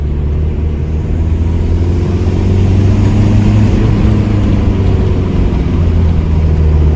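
A 28-year-old VW Golf 3 1.9 TD diesel with its original turbo, freshly tuned, drones loud and close, its engine note steady and rising slightly as the turbo spools up.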